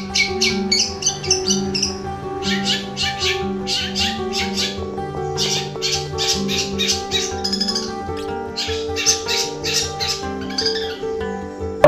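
A young long-tailed shrike (cendet) sings loudly in a cage, with bursts of bright repeated chirps and trills over a steady low background hum.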